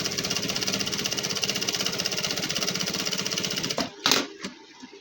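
An electric sewing machine runs steadily in rapid, even stitching while double-stitching a gents suit, a fast mechanical chatter that stops abruptly near the end, followed by a few brief handling clicks.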